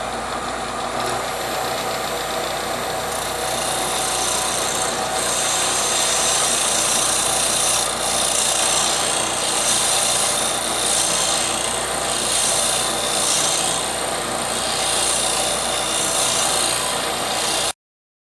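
A wood lathe spins a small lidded wooden box while a tool cuts into it, a loud continuous hiss and rasp with a steady motor drone, close and unbroken until it stops abruptly at the end.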